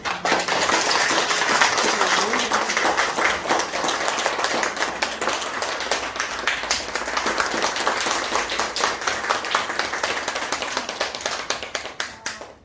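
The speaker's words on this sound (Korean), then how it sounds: "연주자분들을 우리 큰 박수로 모시겠습니다." A small concert audience claps steadily to welcome the performers onto the stage, a continuous, even patter of many hands close by that keeps going for several seconds before tapering off at the end.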